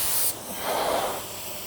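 Paint spray gun laying down a light drop coat from a little farther back, a steady near hiss that opens with a brighter burst and then runs on evenly.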